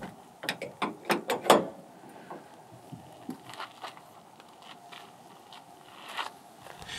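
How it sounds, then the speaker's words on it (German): Ski luggage box on a Setra S 531 DT double-decker coach being unbolted and swung aside: a quick burst of metallic ratcheting clicks and clanks, then quieter scraping and rattling as the box moves, with no talk. "Dazu werden einfach zwei Bolzen aus den linken Ösen genommen, der Koffer ein wenig angehoben und schon geht's zur Seite."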